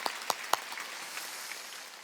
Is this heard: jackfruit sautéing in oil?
no